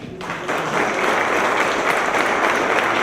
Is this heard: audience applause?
yes